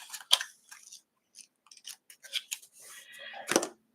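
A blade cuts through a glued seam on a cutting mat while assembling a handmade suitcase album, heard as a few short, crisp, close snips and clicks spaced out in a quiet room.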